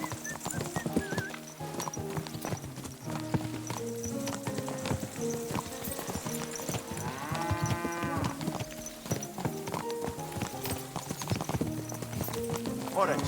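Horse hooves clop in a steady rhythmic gait in the medieval game Kingdom Come: Deliverance II, joined by a cow's moo and a horse's whinny over game music, with voices talking.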